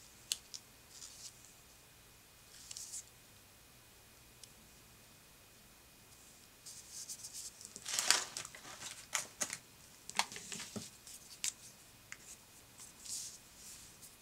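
Scissors trim scrapbook paper, producing faint quiet snips and crisp paper rustles clustered in a short burst, with scattered soft clicks and handling noises around them.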